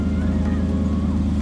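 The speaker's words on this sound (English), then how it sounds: "Sounds great for a truck V6 though." A truck's V6 engine idling steadily up close, a deep, even rumble with faint ticking from the injectors and light belt chatter, unbroken through the whole short stretch.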